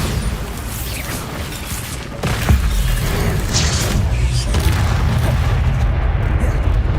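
Bombarda spell explosion in the video game Hogwarts Legacy, a loud booming blast with a sharp onset, then a sustained rumbling roar and debris noise at close range.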